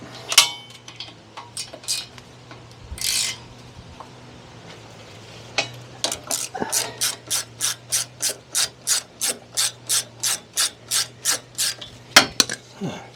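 Ratchet socket wrench clicking steadily as it undoes a single 10mm nut on a Kawasaki ZZR1100 motorcycle, a long run of sharp, evenly spaced ratchet clicks close by, after a few earlier scattered clacks, with a low steady hum underneath.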